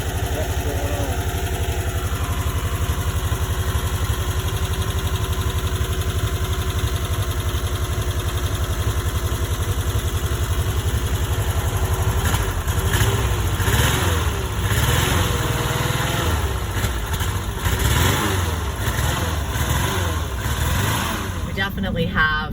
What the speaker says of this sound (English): The engine is, you know, kind of shaky when it's running.